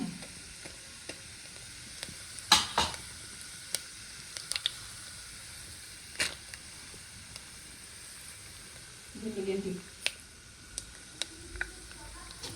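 A steady low sizzle of spices, mainly cumin seeds, frying in hot oil for tempering, with scattered pops and crackles and a brief clatter of stirring.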